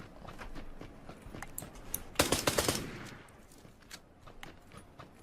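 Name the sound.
gunshots in a video game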